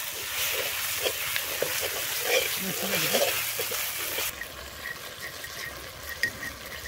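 Onions with ginger and garlic paste sizzling in hot oil for a Bengali doi katla fish curry, a steady close frying hiss that runs through the whole stretch, with a voice speaking over part of it.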